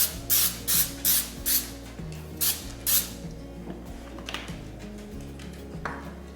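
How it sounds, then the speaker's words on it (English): Nonstick cooking spray is sprayed into a casserole dish in several short hissing bursts, about six quick sprays in a row, followed by quieter rattling and handling sounds. "I'm just gonna spray it with some nonstick spray."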